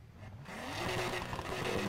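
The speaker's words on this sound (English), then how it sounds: "The best exhaust sound," Engine and exhaust of a Nissan Skyline GT-R R34 in the racing game Need for Speed Heat, a low rumble building into a louder, rising rev that holds steady and close.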